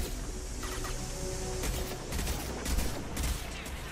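Rapid gunfire bursts from shredder ammunition in the video game Mass Effect 2, several quick crackling volleys at moderate level under game background noise.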